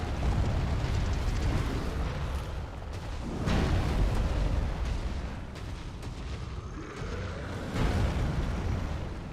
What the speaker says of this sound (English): The explosion missed on that one somehow too.